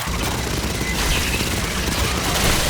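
Dense, rapid bursts of automatic gunfire in the sci-fi shooter video game Aliens Fireteam Elite, a continuous loud fusillade lasting a couple of seconds.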